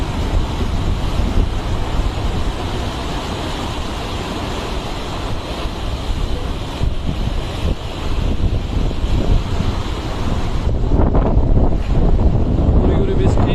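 A stormy sea roars under strong wind during Cyclone Remal, with light drizzle falling; a loud, continuous churning rush of surf and gusting buffets the microphone throughout, briefly dipping near the end.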